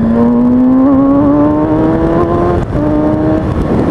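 Kawasaki Ninja 636 sportbike engine revving loud and close, a single rising drone that climbs steadily in pitch, dips briefly, then holds high.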